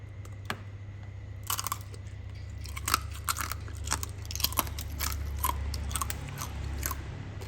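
Crunchy tanghulu, fruit coated in a hard candied sugar shell, is bitten and chewed close to the mic, with sharp cracking crunches repeating irregularly over several seconds and no talk.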